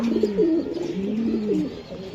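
A pair of racing pigeons coo close by, a soft, warbling run of low throaty calls repeating steadily with no other sound.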